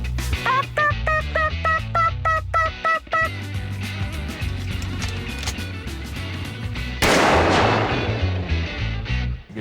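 A shotgun fired on a farm: a single loud, sharp blast with a rough, decaying tail, preceded by bright, repeating musical tones and a low, steady pulse.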